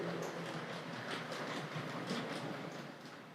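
A Tri-ang B12 model locomotive in BR black runs round a curve of toy track toward a half-built station, giving a steady close rolling rumble with a light rhythmic clicking from the wheels.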